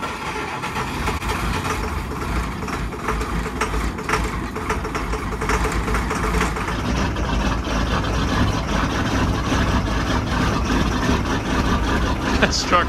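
A truck engine idles on a cold winter day, reportedly fitted with a hot cam, giving a steady, loud low rumble that runs throughout with a slightly lumpy pulse, while people talk over it.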